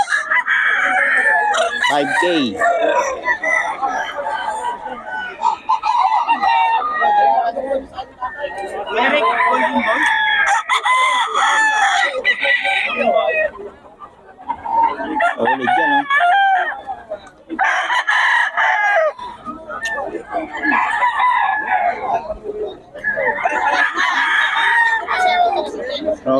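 A rooster crows repeatedly in long, loud calls, with clucking fowl around and people chatting underneath.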